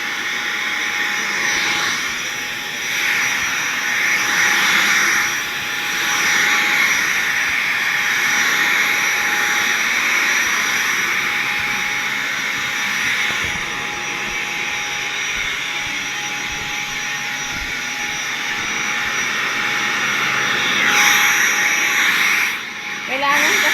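A household vacuum cleaner runs steadily indoors while sucking up dog hair, a continuous whining drone that holds for the whole stretch with slight dips, with some background voice underneath.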